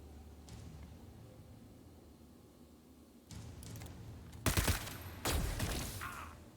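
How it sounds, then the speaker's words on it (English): Pistol shots in the Necromunda: Underhive Wars video game, with two sharp, loud bursts of gunfire a second apart, following a quieter stretch of low ambient game noise. "Maybe I'll head in and we'll do some pistol shots if I can get them off."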